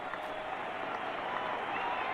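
A baseball crowd at a Toronto Blue Jays game applauds and murmurs continuously in the distance, a faint, steady wash of clapping and cheering from a 1997 game.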